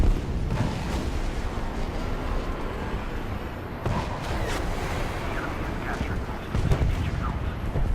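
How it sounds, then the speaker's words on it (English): Anti-air rockets fire in a video game, a dense, continuous roar of launches and blasts with heavier booming bursts near the start and end, loud and steady throughout. "These are anti-air rockets."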